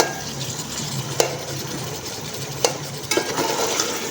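Chopped tomatoes fry with onions for chicken biryani, a constant close sizzle broken by a few sharp scrapes and clicks of a spoon against the pot, with no one talking.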